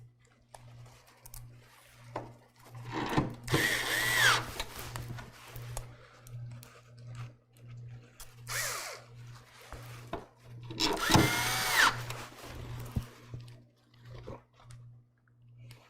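Screws being driven into a PC case for a Fallout Nuka-Cola themed build give several grinding, creaking bursts of turning, close and moderately loud, over a steady low electrical hum.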